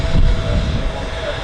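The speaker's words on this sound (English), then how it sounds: "It's an Embraer E170 you might have heard there." An Embraer E170 jet at Manchester Airport runway 05L gives a steady, loud roar of engine noise for a brief moment, close and unbroken.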